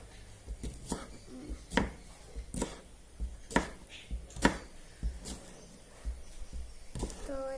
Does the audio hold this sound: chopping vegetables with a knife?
yes